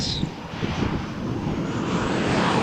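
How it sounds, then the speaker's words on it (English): A Ryanair jet taking off at Malaga Airport on a stormy morning, a steady rumbling engine roar building slightly in loudness, heard from a distance with wind noise. "Immediate takeoff for Ryanair flight"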